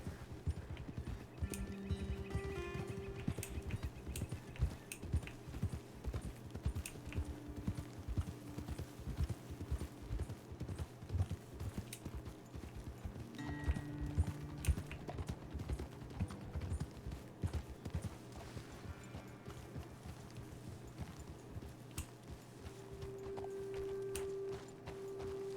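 Horses ridden along a trail in the Red Dead Redemption video game, a steady rhythmic clip-clop of hooves, quiet and continuous under a soft ambient music drone.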